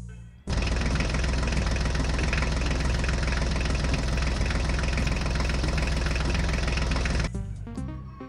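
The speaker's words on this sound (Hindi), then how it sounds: "चलो ड्राइवर, इस कीचड़ से ट्रैक्टर को ध्यान से पार करना।" A tractor pulling a full trolley drives through mud, its engine revving loud and steady for several seconds before cutting off abruptly, followed by faint clattering.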